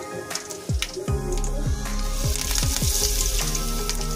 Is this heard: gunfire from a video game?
no